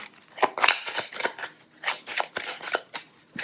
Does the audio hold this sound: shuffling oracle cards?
yes